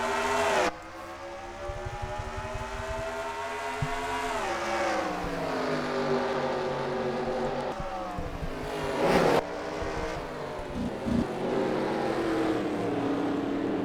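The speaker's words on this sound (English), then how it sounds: "we are green flag racing here at Pukekohe" Race cars accelerate together at the green flag start of an NRSL Universal Orlando Cup Series race at Pukekohe, a layered engine drone rising and shifting in pitch as the cars shift gears, steady and continuous throughout.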